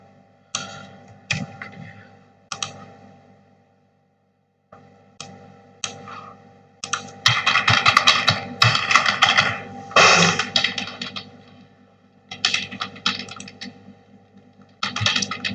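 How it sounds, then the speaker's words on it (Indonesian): Typing on a computer keyboard while coding a web form, with bursts of rapid key clicks separated by brief pauses, close and fairly loud, with no talking. "Kita coba sambil mengetik."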